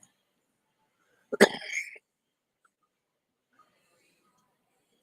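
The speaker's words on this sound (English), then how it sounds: "and yes, I'm still coughing, folks." A single short cough, sharp and close, followed by silence.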